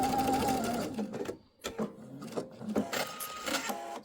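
A sewing machine stitches a faux welt pocket in short runs, its fast whirring needle stopping and starting with clicks and pauses between bursts, close and clear.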